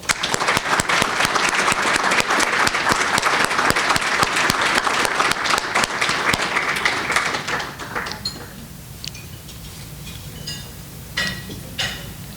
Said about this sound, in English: Let's join all in applause today to recognize Linda for receiving this award.